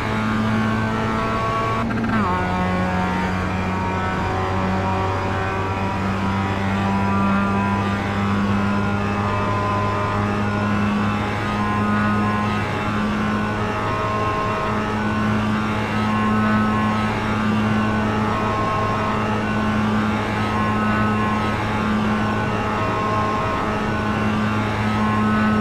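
Race car engines at Charlotte Motor Speedway in the iRacing sim hold a steady, loud droning whine for the whole stretch, with one brief pitch drop near the start and no talking over it.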